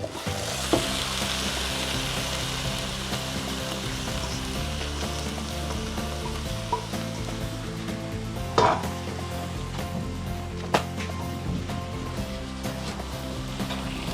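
Minced chicken fries in masala in a pan, a continuous close sizzle with intermittent scraping and clanks of a spoon as it is stirred, plus a couple of louder knocks.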